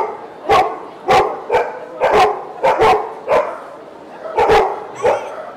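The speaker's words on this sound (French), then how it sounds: "Alors on va faire aboyer les chiens." Handi'chiens assistance dogs bark on command, loud close barks in quick single and paired bursts, about ten in all, with short pauses between.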